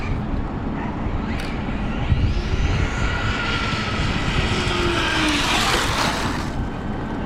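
Arrma Infraction RC car on cheap replacement wheels, its electric motor a continuous loud whine with rising and falling pitch as it drives back in, over a constant broadband rumble from outdoors.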